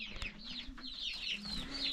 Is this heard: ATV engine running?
no